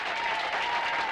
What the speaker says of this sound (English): That's all the people out there clapping for you